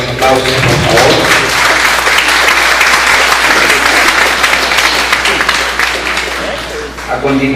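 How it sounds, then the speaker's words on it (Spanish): Loud, sustained applause from a large crowd, continuous and dense throughout, with a voice faintly audible near the start and end. "Otra vez fuerte los aplausos, por favor."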